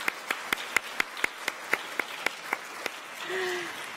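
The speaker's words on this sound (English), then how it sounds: "Let's give them all another round of applause" Clapping at a middle school magnet meeting comes as a run of about a dozen sharp, evenly spaced claps that gradually soften. A faint tonal sound follows near the end.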